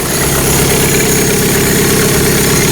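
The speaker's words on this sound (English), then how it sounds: "Now we got it idling." A 1985 Toyota pickup truck engine idles loudly and close by, a steady rhythmic low rumble with a fast, even pulse and no other sounds.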